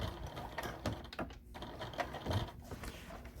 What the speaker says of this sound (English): We're going to sew right into the ditch around this entire way.